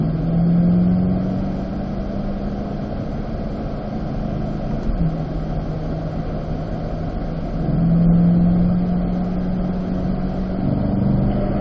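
Cars cruise on a race track at Spring Mountain, a loud continuous engine drone with gentle rises and falls in pitch as the speed eases and builds, no talking.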